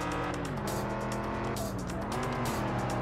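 A Ford Mustang races in the Test Drive Unlimited video game on PS2, its engine a loud continuous drone with shifting pitch, gear changes and bursts of tire noise, with no talking.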